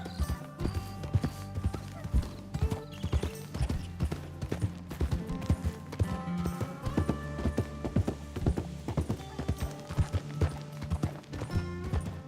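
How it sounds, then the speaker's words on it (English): Horse hooves clip-clop in a steady walking rhythm throughout, close and prominent, in the Westhaven: The Hush roleplay video game, with faint ambient background under the footfalls. "there's another horse here."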